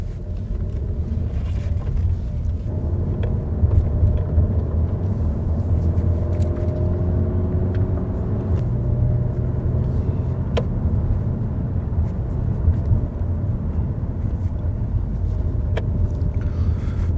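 Car driving along a dark forest road at night, with a steady close low engine and road rumble inside the cabin, continuous throughout with a few faint clicks.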